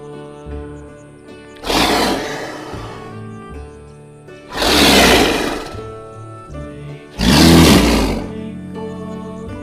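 A big cat roar as a leopard sound effect: three long, loud, breathy roars spaced a few seconds apart over a quiet musical background.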